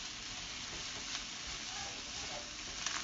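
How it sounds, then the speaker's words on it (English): Mushrooms sautéing in a pan, a steady bright sizzle with occasional soft stirring scrapes and pops, close and continuous without talk. "And let's go on and add those mushrooms. Let's go and add all that in there first. Let that saute down."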